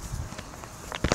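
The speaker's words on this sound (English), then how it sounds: "I'm pretty sure I heard footsteps" Footsteps in a Sonic video game: a short run of soft, quick steps, with a louder burst of a few near steps at the end, no talking.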